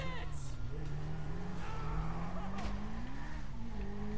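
A moped engine buzzes steadily in Grand Theft Auto, a droning motor whose pitch rises and falls as it revs and moves, heard continuously beneath people talking.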